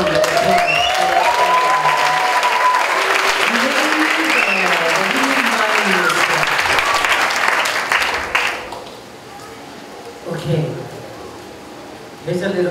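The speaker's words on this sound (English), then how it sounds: "Another nice round of applause." Audience applause following a hula performance by a Kauaʻi hālau, loud and sustained from a large crowd for about eight seconds, then fading into quieter room sound with a voice and a brief second burst of clapping.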